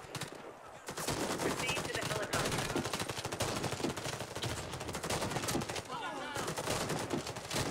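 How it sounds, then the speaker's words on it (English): A mounted gun fires in the shooter game Warface during a chopper mission, a long stream of rapid automatic bursts hammering steadily and loudly for several seconds. "Pretty sure there's a mounted gun over there."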